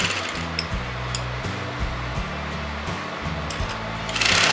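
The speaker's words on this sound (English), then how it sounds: "you're going to lift up the foot and turn the fabric and you're going to sew that" A sewing machine stitches kurti fabric around a curve, running in short, even bursts of rapid mechanical whirring that stop and restart several times at close range.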